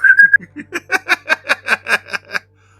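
A person whistles a short held note, then a quick series of about ten rhythmic, breathy chirping whistles that stop abruptly.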